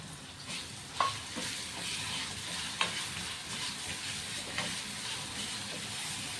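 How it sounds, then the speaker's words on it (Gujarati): Ginger, garlic and chillies frying with sesame seeds in a pan, a steady sizzle with a few sharp pops and stirring clatters, close and continuous, no talking. "આપણે આદુ લસણ મરચાં લીધા હતા તે નાખી દઈશું"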